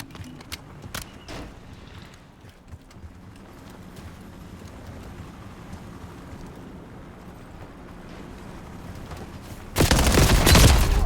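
Gunfire in the Call of Duty: Black Ops 7 beta on PS4 Pro comes as sharp shots early on, then a dense, loud burst of firing near the end over quieter game sounds.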